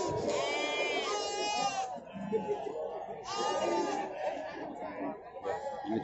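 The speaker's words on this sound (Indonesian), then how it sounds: "Ini juga kambing jantan." Two loud, wavering bleats from a male goat ring out close by, separated by a pause, with people chatting in the background throughout at a livestock market in Ngadirejo.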